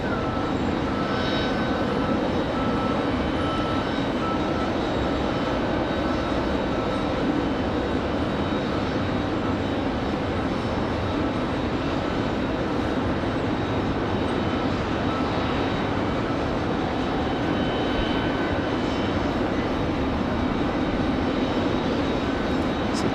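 Aer Lingus and Icelandair jets rumble at RDU airport in Raleigh-Durham, a continuous loud jet engine roar that stays steady the whole time, with faint reversing beeps and ground-vehicle noise mixed into the wash.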